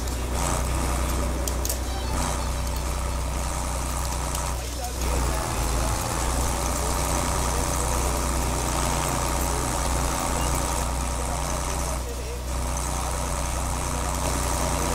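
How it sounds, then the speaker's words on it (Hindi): A simulated HMT 5911 tractor engine works under load pulling a 12 ft rotavator in Farming Simulator 22, a constant heavy droning hum running throughout with little change. "अब थोड़ा ट्रैक्टर लोड दे रहा है"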